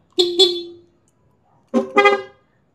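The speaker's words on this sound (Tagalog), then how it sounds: "So ito pa rin yung sa stock horn ko." The stock horn of a Honda ADV 160 motorcycle honks twice, each a pair of quick bright beeps, loud and close, with silence between.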